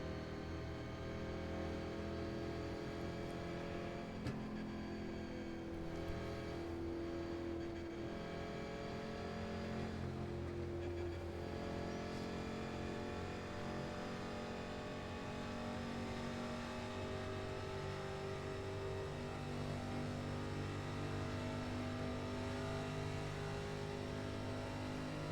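A pack of 1987 NASCAR stock cars droning around the Indianapolis oval in iRacing, steady, loud engine roar holding a sustained harmonic pitch that shifts slightly over the whole stretch.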